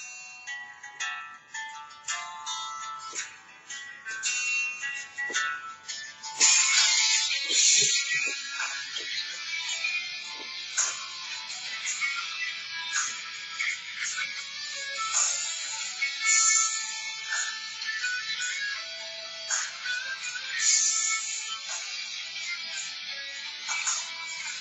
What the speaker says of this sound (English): Now we got ringtone number 16.